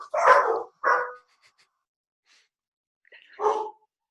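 Dogs barking: two quick close barks, a pause of silence, then a third bark, loud and near with nothing else around.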